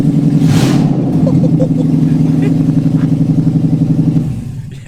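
A straight-piped car engine with no exhaust fitted is revved hard, a loud, raw, sustained roar that holds steady for about four seconds before dropping away, with voices talking over it.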